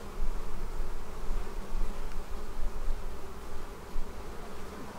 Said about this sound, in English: Tons of bees on it.